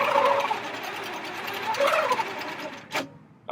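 A Handi Quilter Infinity 26 longarm quilting machine on a Gallery 2 frame stitches with a fast, buzzing mechanical chatter that swells and eases as it moves, stopping near the end with a short knock.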